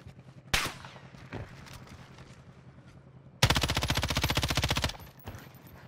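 Gunfire in Call of Duty Warzone, a single sharp shot early on, then a loud rapid automatic burst lasting about a second and a half, close and punchy.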